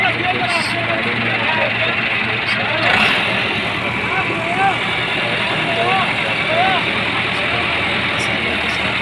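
A tractor engine at night pulls a stuck harvester out of a swamp: a steady, close diesel rumble runs throughout under loud, overlapping shouting voices.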